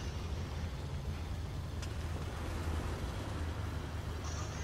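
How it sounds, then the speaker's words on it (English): Tank engine in a video game, a continuous low mechanical rumble that holds steady and fairly quiet for several seconds, with no talk over it. "You can hear, like, the fucking engine start up, like the revs."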